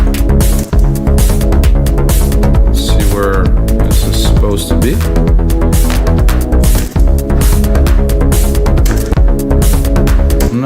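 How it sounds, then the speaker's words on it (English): A clap sample drops into a dense trance beat built in Logic Pro X, with the handclap sitting inside steady, loud, continuous electronic music alongside kick, bass and synth layers. "I'm not a big fan of this clap"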